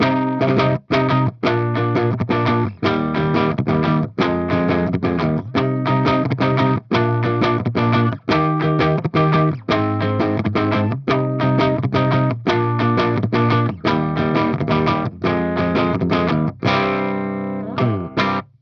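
An electric guitar through a 5150 tube amp plays steady, rhythmic chords with a clean, dry tone and no effects, ringing out for several bars before a final sustained chord.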